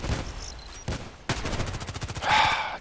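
Rapid automatic gunfire from the online shooter Contract Wars, a close, loud burst of evenly spaced shots after a couple of single cracks, ending in a rising game effect.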